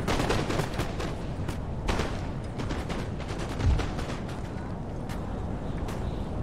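Musket volleys crackle across a Napoleonic battlefield at Waterloo in Napoleon: Total War, a dense, continuous rattle of distant shots with scattered sharper reports and a low thump midway.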